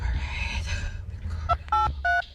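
Telephone dialing: a short series of distinct DTMF keypad tones beeps closely, after a stretch of low rumbling room noise.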